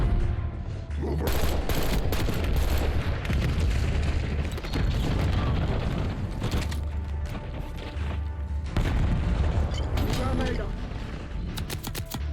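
Repeated Semtex grenade blasts in the Black Ops 6 multiplayer shooter, booming bursts mixed with gunfire clattering over a loud, busy game soundscape, with a voice talking over the action.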